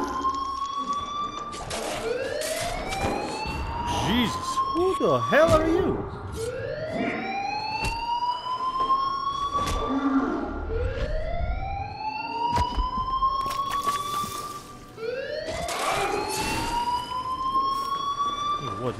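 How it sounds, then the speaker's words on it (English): A wailing alarm siren in the video game Dead Island 2, rising and falling in repeated sweeping cycles throughout, loud and continuous, with a voice speaking briefly over it. "This alarm."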